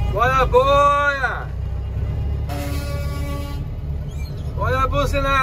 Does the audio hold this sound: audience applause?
no